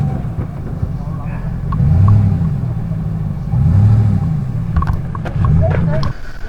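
An off-road vehicle cruises along a smooth paved road toward a canyon, its engine rumbling steadily in close, swelling rhythmic surges, with faint rattles and road noise throughout.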